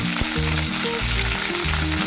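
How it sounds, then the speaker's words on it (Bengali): Cauliflower florets fry lightly in a pan, giving a loud, continuous sizzle and crackle close by, with no voices over it. "সেই ফুলকপিগুলো হালকা করে ভেজে নেব।"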